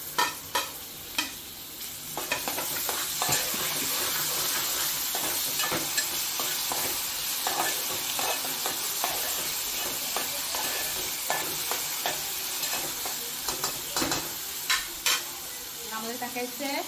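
Chopped onion sizzles in hot oil in a pan for a squid curry, a continuous bright hiss broken by repeated scraping stirs and clinks of a spoon against the pan, close and steady.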